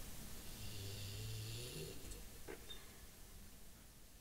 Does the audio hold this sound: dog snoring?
yes